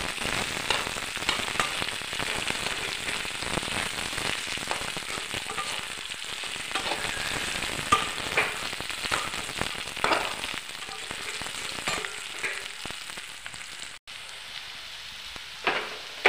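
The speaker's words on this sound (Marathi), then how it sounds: "मिरची, आलू व्यवस्थित भाजून घ्यायचा." Chillies and potatoes fry in oil for sabudana khichdi, giving a steady, dense crackling sizzle with scattered sharp pops throughout, close and fairly loud with no talking.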